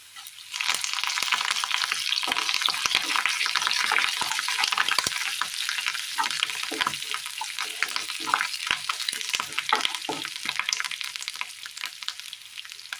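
Curry leaves are dropped into hot oil in a pan, producing a loud, close, crackling sizzle with sharp spattering pops that sustains throughout without any talking.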